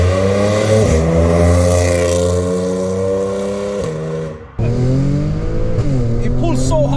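A 2010 Audi S4 B8 Quattro accelerating hard, its engine note climbing steeply through the gears with brief dips at each shift, loud and close from inside the cabin.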